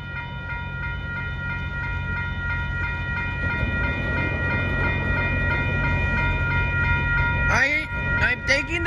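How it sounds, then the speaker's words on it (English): A freight train crosses Ninth Street in Rochelle, Illinois, its loud continuous rumble and whining wheel tones rolling past nearby, with sharp squeals and clanks near the end. "I'm thinking the train is crossing over"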